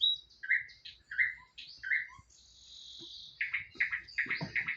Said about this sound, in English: I was listening to the birds on my TV. Nice birds.